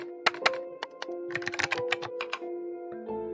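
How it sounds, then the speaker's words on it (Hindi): Rapid, crisp keyboard typing as a sound effect in an audio drama, a close burst of irregular clacking keystrokes lasting about three seconds over a faint tonal background, with no voices. "कार्तिक की उंगलियों ने एक डेफिनेट लाइन टाइप करते हुए कीबोर्ड और माउस को जल्दी से अपने हाथों से नियंत्रित कर लिया।"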